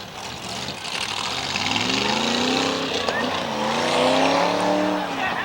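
An SK Modified race car at Waterford Speedbowl engine rumbles close by, its pitch rising and falling as it rolls into victory lane, under a crowd wash and loud announcer-style talk.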